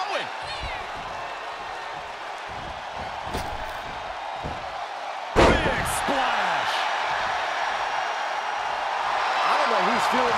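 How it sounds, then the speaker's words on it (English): A power slam in the WWE 2K23 women's wrestling match between Billie Starkz and Kiera Hogan lands as a single heavy thud midway through, over steady crowd noise with voices talking. "Thunderous power slam"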